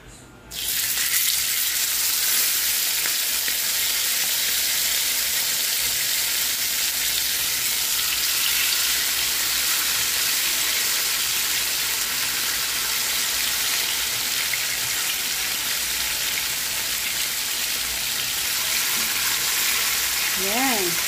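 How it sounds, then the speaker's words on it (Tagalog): Marinated, butterfly-cut fish with the heads removed fries in oil, three pieces in the pan, giving a loud, constant, close sizzle that starts abruptly and runs unbroken, with a few faint tonal chirps near the end. "naglagay tayo dito ng mantika para sa pagprito ng ating isda na yun"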